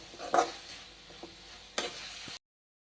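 Tomatoes and onions for tomato thokku sauté in a pan, with a soft sizzle and a few clinking stirs close by before the sound cuts off abruptly.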